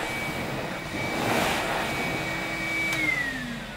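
A Vorwerk Tiger vacuum cleaner runs on its low setting over carpet, a steady close whine with a faint tonal hum that drops slightly in pitch near the end as it is pushed along.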